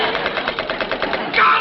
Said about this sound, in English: manned the machine gun, and began firing at the enemy aircraft